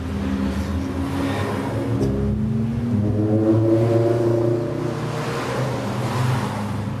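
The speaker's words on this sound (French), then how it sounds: "Désolé, les voitures passent." Road traffic with cars passing by, a steady engine and tyre roar that swells and fades as vehicles go past, continuous and fairly loud with no speech over it.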